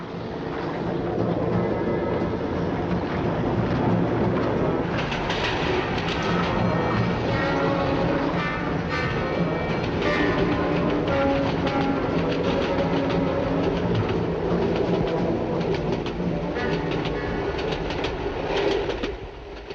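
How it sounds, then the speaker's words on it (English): The Midland Pullman, a 1960s British diesel express train, rumbles past at a steady roar, with rhythmic clickety-clack of wheels on rail joints throughout. "This is the Midland Pullman, one of the expresses that is helping to give the railways their new image."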